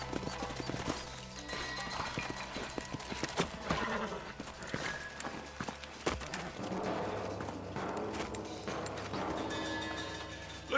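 Horse hooves clip-clop in a steady gallop in Red Dead Redemption, several horses riding together, loud and continuous with an occasional neigh over a dense game soundtrack and ambience.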